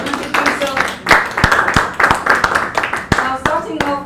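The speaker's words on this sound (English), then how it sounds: "I think he deserves an round of applause." Scattered, distinct hand claps ring out at a business acceleration program event, rhythmic and close, while people keep talking over them.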